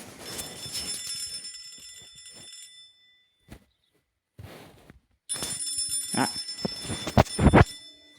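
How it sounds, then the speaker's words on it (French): A telephone rings in the video game Hello Neighbor, shrill bursts of bell-like ringing that come and go between short gaps of silence, with a brief spoken exclamation among them. "On se fait appeler par le FBI."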